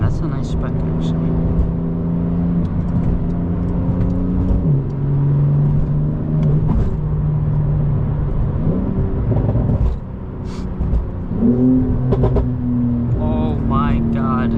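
A loud, deep Porsche 911 Turbo S (992) exhaust with an Akrapovic system rumbles and revs from inside the cabin, rising and dropping with gear changes, with pops and crackles toward the end.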